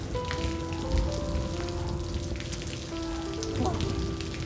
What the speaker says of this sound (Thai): ลุยฝนไปก็แล้วกัน